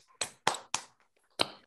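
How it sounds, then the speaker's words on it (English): Scattered, uneven applause from a few people on a video call, four or five separate claps and bursts spread apart with short gaps between them, thin and close-miked rather than a full crowd. "the round of applause was kind of lame because people couldn't get to the off mute quickly enough"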